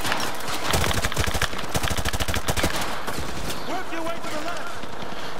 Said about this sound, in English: They're constantly firing.